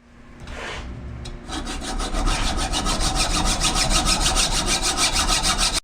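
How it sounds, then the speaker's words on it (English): A hacksaw cuts through the body of a Koni Yellow strut insert from a 2006–2011 Honda Civic Si, starting with a few tentative scrapes and then settling into fast, regular back-and-forth metal rasping strokes, close and loud, with no voices. "That's where you want to cut at with the hacksaw."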